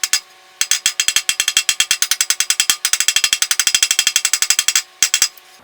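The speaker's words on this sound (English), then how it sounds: "Using a tack hammer for my body work." Rapid, steady metallic tapping of a tack hammer on a dented sheet-metal tank of a mid-1960s Sears Flightliner bicycle, dozens of sharp ringing strikes in quick rhythm with a couple of brief pauses.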